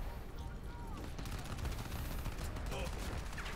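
Rapid automatic gunfire from a mounted turret in the shooter Crysis 3, a dense and continuous stream of shots with faint voices underneath.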